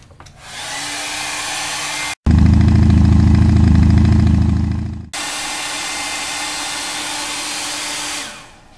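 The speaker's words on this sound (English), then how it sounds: "We're going to dry this real quick." A hair dryer blowing on artwork, a steady loud whooshing roar that shifts to a deeper, heavier setting midway and then returns to the higher, airier tone before shutting off.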